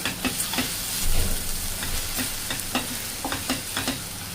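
Chopped onions fry in hot oil until reddened for a jackfruit sabzi, giving a steady close sizzle punctuated by light scraping stirs of a spatula.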